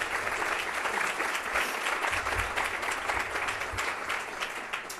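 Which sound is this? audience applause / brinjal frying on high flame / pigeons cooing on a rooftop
audience applause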